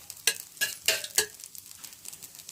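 Oil poured onto a pesarattu on a hot pan brings four sharp sizzling bursts in quick succession, close and crisp, then a quieter fading crackle.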